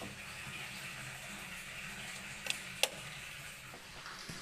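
Household tap water steadily filling an Onzen spa tub through its refill line, a faint continuous flow with a couple of sharp clicks partway through.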